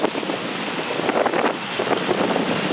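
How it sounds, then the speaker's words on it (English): Wind gusts across an outdoor Veterans Day ceremony, buffeting the microphone with a steady rumbling roar that swells and eases throughout, with no voices heard. "It's the wind."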